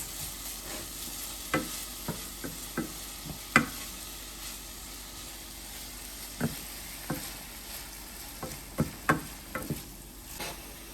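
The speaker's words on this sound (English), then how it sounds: "So we're gonna saute. Saute for about 2 minutes" Food sautéing in a pan for a Jamaican-style canned corned beef and mackerel dish, a steady low sizzle with scattered clicks and scrapes of stirring at close range, no voices.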